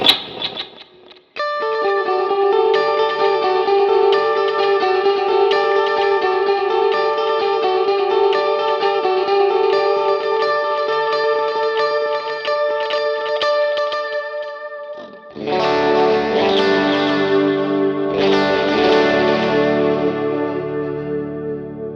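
Heavily effected electric guitar chords through a Universal Audio OX Box amp simulator with a 50-watt cabinet ring out loud and sustained, with distortion and shimmering echo. A fresh chord strikes about two-thirds through, then rings again.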